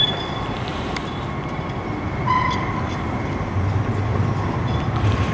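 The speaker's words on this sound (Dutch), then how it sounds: "Vanaf hier vertrekt de GVB tramlijn 19 met de nieuwe 15G CAF Airbus 100 voertuigen." A new CAF tram on GVB line 19 at Amsterdam Sloterdijk's bus and tram platform gives a steady rumble of wheels on rail with a faint squeal, loud and continuous, with no talk.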